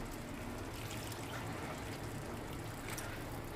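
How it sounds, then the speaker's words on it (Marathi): Half a glass of water going into a pan of cooking potato curry for aloo baingan sabji, a steady, even wash of pouring and trickling at low level, alone and unbroken throughout. "आता आपण यात अर्धा ग्लास पाणी टाकू"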